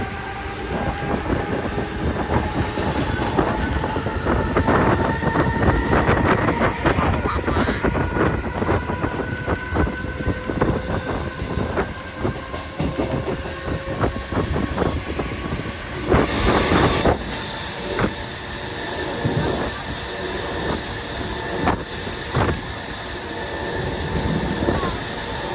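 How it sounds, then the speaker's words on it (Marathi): A Mumbai local train runs on its rails near Dadar, a loud, continuous rumble and rattle of wheels and carriages with repeated clacks and wind buffeting, lasting the whole stretch. "ट्रेन लागले तिकडे"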